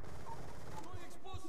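MSMC submachine gun firing in Call of Duty Black Ops 2, a dense rapid burst of gunfire sitting low and steady through a short stretch, with a voice talking over it.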